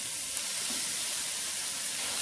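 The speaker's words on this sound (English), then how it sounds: "have our beautiful zoodles to go put into the pan" Zucchini noodles sizzle in a hot oiled pan over high heat, a loud, steady, close frying hiss that runs unbroken with no talking.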